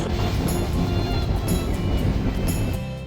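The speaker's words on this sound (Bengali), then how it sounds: "ধূমকেতু এক্সপ্রেস ট্রেনটার ঢাকা থেকে ছেড়ে যাওয়ার সময় হচ্ছে ভোর ছয়টা" Dhumketu Express passenger train running from Dhaka toward Gazipur, a loud continuous rumble and rattle heard from on board, with rhythmic clacks over the rails.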